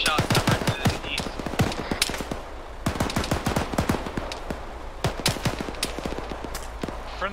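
Rapid rifle gunfire in ArmA 3, dense volleys of sharp loud cracks in quick bursts with short pauses, close and continuous throughout.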